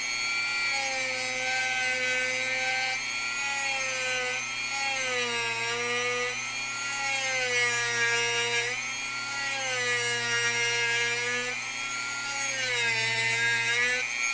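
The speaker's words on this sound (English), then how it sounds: "here we go with the Dremel." A Dremel rotary tool grinds in a continuous high-pitched whine, its pitch dipping and rising in repeated waves as it presses into the work, loud and close with no talk.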